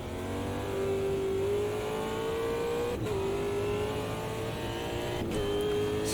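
A Super V8 race car at Bathurst in the game Automobilista 2 runs close and steady, its engine note climbing through the rev range with two sharp gear changes and a faint tire squeal.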